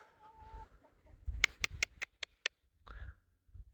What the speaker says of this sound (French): Ah, les poules, elles sont là.